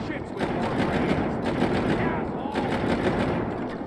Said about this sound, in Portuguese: Pega a metralhadora, mata esses zumbis.